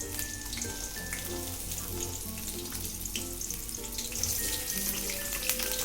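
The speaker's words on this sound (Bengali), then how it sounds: "ফুলকপিগুলো আমি ভালো করে ভেজে নেব" Cauliflower florets frying in hot white oil for a vegetarian cauliflower curry give a steady, close crackling sizzle throughout, over faint sustained tonal sounds in the background.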